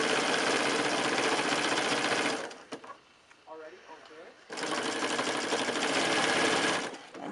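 A sewing machine stitches gingham binding around the curved corners of a quilt, running loud and steady, pausing briefly mid-clip with a few soft clicks and handling sounds, then resuming at full speed.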